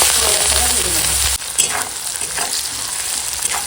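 Chopped onion and green chili hit hot oil with whole bay leaves and spices for a rohu fish curry, hissing loudly and steadily, then a stir breaks the sizzle into softer crackling and scraping.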